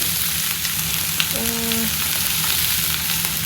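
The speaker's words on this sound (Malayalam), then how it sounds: "അപ്പോൾ ഞാൻ കുറച്ചൊക്കെ കയ്പ്പയ്ക്ക ഇടുന്നുണ്ട്" Bitter gourd pieces dropped into hot oil with popping mustard seeds for a Kerala-style kaypakka thoran, giving a loud, steady frying sizzle that runs unbroken throughout, with a brief scrape partway through.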